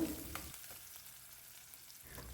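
Curry leaves and onion sizzle in hot tempering oil for a beetroot palya, a steady soft crackle with one brief louder burst at the start, no voices.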